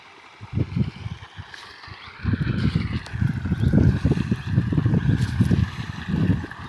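Water from a pump motor rushes and gurgles along an irrigation channel through a groundnut field, a close, uneven churning with wind buffeting the microphone and a faint high tone running beneath.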